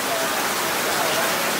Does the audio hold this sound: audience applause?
no